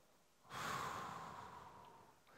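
A person blows out one long, breathy exhale, close and soft, rising quickly then slowly fading over about two seconds, with no talk.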